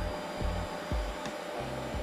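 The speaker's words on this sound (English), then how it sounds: "I used my hand tool for my Bissell carpet cleaner." A Bissell carpet cleaner's hand tool vacuums dried shea butter out of carpet, giving a steady, close whooshing suction drone with a few brief low thumps as the tool drags across the pile.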